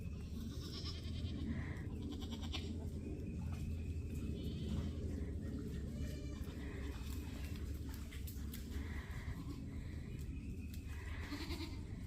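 Goats bleat now and then in a farm pen while a border collie works the herd, with hooves shuffling and a constant outdoor rumble underneath, no talking.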